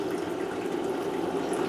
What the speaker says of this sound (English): to that I add the 32 ounces of filtered water